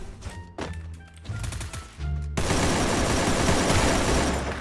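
Gunfire in the mobile battle royale game Free Fire: separated shots and short bursts early on, then a dense, loud, sustained stream of rapid fire that fills the rest of the stretch.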